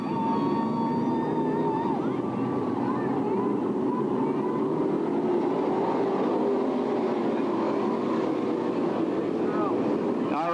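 Modified race cars roar together in a loud, continuous engine drone as a racing field takes the green flag on opening night of a modified nationals event, the pack sound steady and distant-to-mid range throughout.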